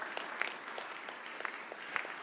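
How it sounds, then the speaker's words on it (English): Steady applause from an audience at a State House signing ceremony in Kenya, a dense patter of many hands clapping at moderate, slightly distant level with no talk over it. "Let's give them another round of applause"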